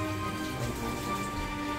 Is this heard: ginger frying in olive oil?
no